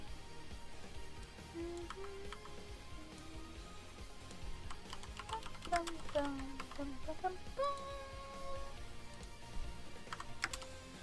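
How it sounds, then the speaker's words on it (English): Keys clatter on a computer keyboard in fast, irregular bursts of close clicks, running steadily through the stretch with a few bright tones and background sounds mixed in, with no voice. "I am absolutely amazing at trying to speak while typing"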